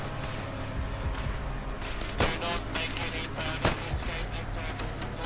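Gunfire in Fallout London, several sharp loud shots cracking out over a constant rumbling game background, with a player talking over it.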